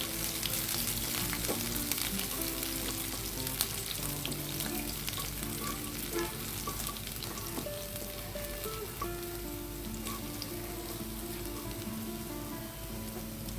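Chopped garlic frying in a pan for pasta: a continuous, dense sizzle with crackles and occasional stirring scrapes, steady and close throughout, with no talking.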